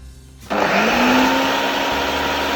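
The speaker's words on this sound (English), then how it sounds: "Give it a quick blend again." A blender whirs up abruptly and runs loud and steady, churning a peanut dough mixed with coconut shreds for a quick blend; the motor pitch rises slightly as it spins up.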